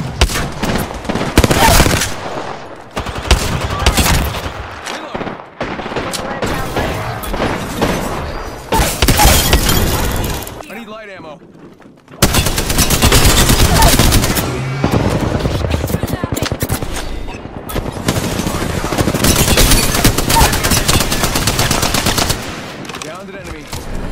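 Video game gunfire: dense, loud bursts of automatic fire and rapid shots that fill nearly the whole stretch, broken by a short quiet gap near the middle, with faint player talk mixed in.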